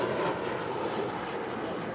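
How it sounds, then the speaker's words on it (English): JetBlue Airbus A320, 14 years old, departing LAX for San Jose del Cabo; a steady, broad engine roar holds at an even, fairly loud level for a brief moment with no voices. "1463 departing to San Jose del Cabo. It's a 14-year-old Airbus A320."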